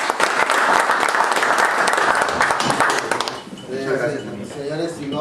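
Applause from a group at a meeting honoring a new national treasurer, dense clapping for about three seconds that fades out as people start talking.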